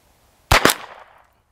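A single sharp crack from a Walther PPK/S .22LR pistol fired outdoors toward a 50-yard target, loud and close, with a quick double-peaked report and a short fading tail.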